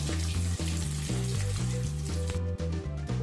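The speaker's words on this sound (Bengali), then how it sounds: "গরম মশলাগুলো একটু হতে দেবো তেলের মধ্যে।" Whole cinnamon, cracked cardamom pods and peppercorns fry in hot oil with a constant close-up sizzle. The crackle runs over a low, steady rhythmic hum with no talking.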